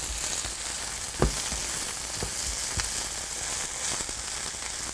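Coarsely chopped garlic frying in a pan, a steady bright sizzle with a few sharp pops and stirring clicks, close and continuous with no talk.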